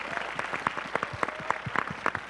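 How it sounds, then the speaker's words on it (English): An audience at a media career day session applauds steadily, with dense, close clapping that holds an even level throughout. "Let's have one more round of applause."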